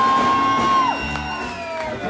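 Audience at a blues festival whooping and cheering loudly, a burst of crowd shouts and calls with a sustained tone fading underneath, no clear clapping.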